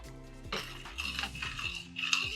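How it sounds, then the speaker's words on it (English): A spoon stirs heaped teaspoons of cacao powder into milk, clinking and scraping against the cup in quick repeated strokes, close and fairly quiet with a background hum. "I'm going to add in 2 heaped teaspoons of cacao powder into the milk, and then going to give it a good mix."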